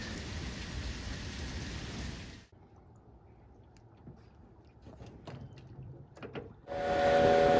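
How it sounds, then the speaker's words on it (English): Heavy rain from a severe thunderstorm with hail roars steadily, drops out into near quiet with scattered faint taps and rumbles, then the downpour surges back loudly. "We have a severe thunderstorm warning, quarter-size hail."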